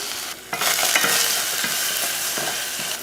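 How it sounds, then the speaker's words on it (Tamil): Hot oil crackles and sizzles loudly in a pan as mustard seeds and curry leaves are added for tempering rasam, after a brief quiet start, with sharp popping and spattering. "ரசம் தாளிக்கிறதுக்கு எண்ணெய் ஊற்றிடலாம் கொஞ்சம் கடுகு கொஞ்சம் கருவேப்பிலை"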